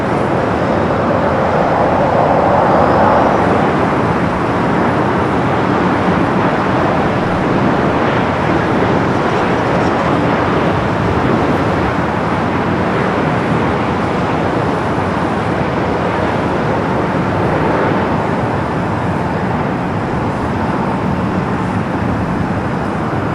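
Airliner on runway 24 Right at Los Angeles International Airport (LAX), a steady, continuous roar of jet engines at a distance that holds evenly throughout with no talk.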